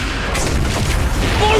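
A flaming lance attack in Honkai Star Rail lands as a brief, loud, rumbling fiery blast with a dense crackling roar.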